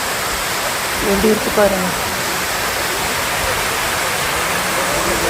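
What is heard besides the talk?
Masilamani waterfall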